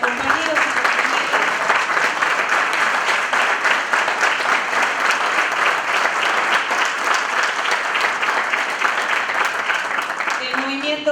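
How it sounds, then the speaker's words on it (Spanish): Loud, sustained applause fills a hall at a Buenos Aires province labour congress as a panel is welcomed, with dense steady clapping throughout and voices mixed in. "queremos hacer el recibimiento con un fuerte aplauso"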